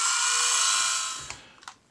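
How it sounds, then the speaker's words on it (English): Small hand or power drill boring pin holes into the feet of a plastic or metal tabletop miniature: a steady high whining buzz that fades out, followed by a few faint clicks. "We're going to drill pins into the feet."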